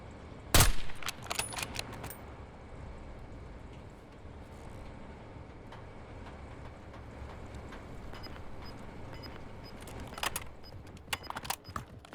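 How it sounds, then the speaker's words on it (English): Weapon handling in Call of Duty Warzone, with sharp metallic clicks and rattles of a magazine reload, one loud snap early on and a cluster of clatters near the end over a low game rumble. "Switching mags."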